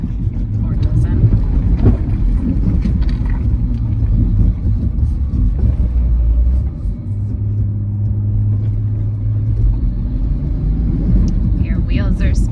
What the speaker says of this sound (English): Your wheels are spinning